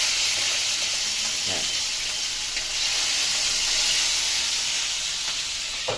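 Fish frying in hot oil, a loud continuous sizzle and hiss held steady throughout, with a couple of faint knocks and a short spoken word.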